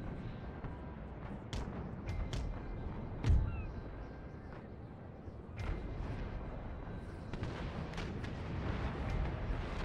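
Naval cannons fire during a sea battle in the Empire: Total War video game, with a few dull booms scattered over a low rumbling background, one heavier thump standing out amid quieter distant shots.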